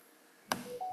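A mobile phone gives a sharp tap followed by a couple of short electronic beeps, faint and close, in an otherwise quiet room with no talking.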